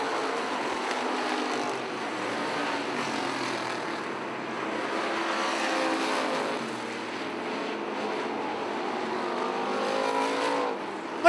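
Street stock race cars circling a track in a final-lap battle: a loud, continuous roar of engines that rises and falls as the pack passes, heard without talk.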